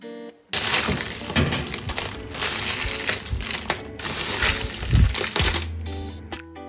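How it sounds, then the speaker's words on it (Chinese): Dry, brittle crackling and crunching in repeated bursts, close up, as crisp toasted dried chilies are grabbed and crushed by hand. "我们抓起辣椒，会听到辣椒清脆的沙沙声。"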